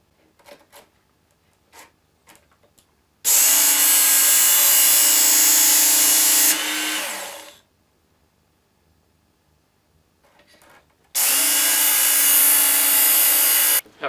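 A knife blade ground on a Work Sharp knife and tool sharpener, its powered belt running in two loud, sustained passes of harsh whirring abrasion separated by quiet handling, with faint knocks before the first pass.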